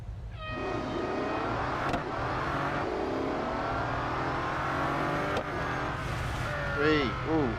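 A racing car engine from Real Racing 3 at night-time Mount Panorama rises in a steady, droning whine that climbs as the car speeds up. Tire squeals come near the end, and a voice talks faintly underneath.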